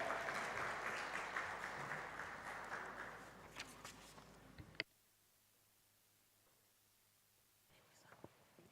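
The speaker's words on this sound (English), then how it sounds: "A round of applause for her" Conference delegates at a directors and company secretaries gathering clap together in a steady, dense burst for nearly five seconds that stops abruptly, leaving a quiet room with a couple of faint knocks.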